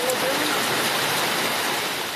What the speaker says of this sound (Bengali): তারপর মুষলধারে বৃষ্টি